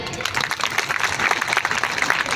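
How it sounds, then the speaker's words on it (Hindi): An audience applauds at a speech marking Dr. B. R. Ambedkar's 135th birth anniversary, with a short stretch of fairly loud, busy clapping that rises and falls, with no words spoken. "बचाओ ताली"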